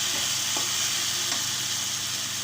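Masala with turmeric powder is sautéed in a pan, producing a continuous close frying hiss with a couple of faint stirring scrapes and no voices.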